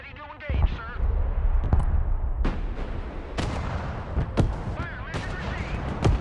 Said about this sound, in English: Mortar ready to engage, sir.